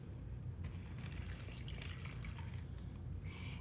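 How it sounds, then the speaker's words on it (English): Water poured into a plastic sensory bag for a library craft activity, a faint, quiet trickle and splash of liquid with light crinkly plastic sounds, no talking. "The most basic one is we're going to use water,"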